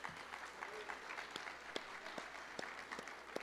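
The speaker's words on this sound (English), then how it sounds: "How about a round of applause for our CWU Catering?" Applause from a dinner audience at an athletics hall of fame induction ceremony, honoring the catering staff; fairly faint, steady scattered clapping with a few sharper claps standing out over a low crowd murmur.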